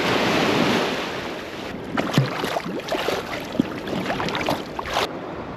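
Choppy waves on a lake slap and splash steadily against something nearby under cold, windy conditions, with gusting wind rumbling across the microphone throughout.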